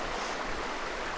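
Steady broadband rush of a creek flowing beside a campsite on the Upper Salmonberry River Trail, continuous and fairly close, with no voices over it.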